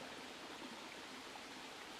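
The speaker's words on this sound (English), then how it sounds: "With all this rain, the streams that run down through Hackfall are really flowing at quite a pace" A rain-swollen stream rushing fast through Hackfall Woods, a steady close broadband roar of running water with no break and no voices.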